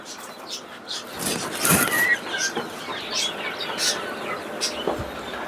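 Chickens on a small poultry farm cluck and squawk nearby in irregular bursts, with some wing flapping and a louder flurry partway through.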